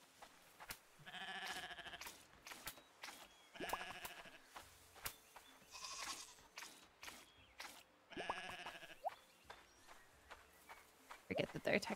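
Ibex, a type of goat, bleating in the farming video game Roots of Pacha, several short repeated bleats mixed with clip-clop hooves and other farm animal calls, with a voice talking over parts of it.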